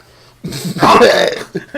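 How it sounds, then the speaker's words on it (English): A single loud, close burp after eating sausage, a rough throaty belch that swells and fades, with a short vocal grunt at the end. "That was a sausage burp."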